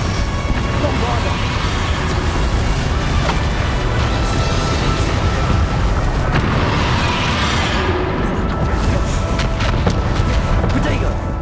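A Bombarda explosion spell from the Hogwarts Legacy video game, a dense, loud stretch of booming blasts and rumble, with sharp bursts repeating through a continuous combat din and voices mixed in.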